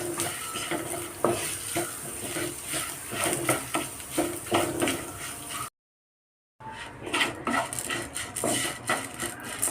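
A spoon stirs rava upma in a pan, scraping and shuffling with a sizzling undertone in a steady, close rhythm, broken once by a short silent gap before the stirring resumes.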